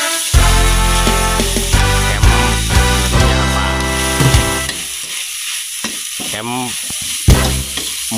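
Stir-frying in a pan for a Korat-style curry sauce gives loud, continuous sizzling broken by repeated clanks of a utensil scraping and tossing, and it eases off near the end.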